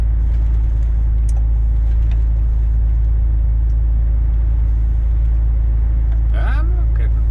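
A freight train hauling coal rolls past close by, giving off a continuous heavy rumble that fills the whole stretch, with a brief metallic squeal near the end.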